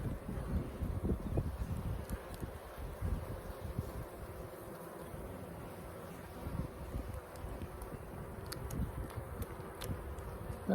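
Honey bees buzzing around an open hive during an inspection on a farm, a soft continuous outdoor drone with light wind rustle and faint scattered ticks, and no one speaking.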